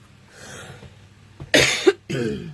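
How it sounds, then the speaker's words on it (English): A few quiet throat sounds, then a sharp cough and a second rougher cough, close and alone. "Apologies for my cough, I have had it all afternoon."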